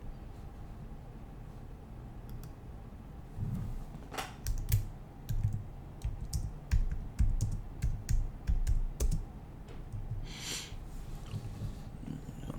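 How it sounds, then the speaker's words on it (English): Typing on a computer keyboard, searching for images of a microchip implant: a burst of irregular key clicks after a quiet start, then a brief pause and a final flurry, close and moderately loud. "Let's type that in."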